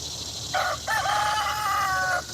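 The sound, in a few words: rooster crowing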